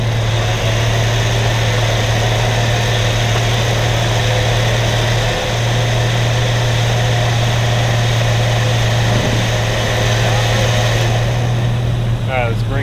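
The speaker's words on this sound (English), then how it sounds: "This should make the winch run so much smoother." A steady, loud electric whine from a winch treated with QuantumCoat, running continuously at close range with a constant low hum and no breaks.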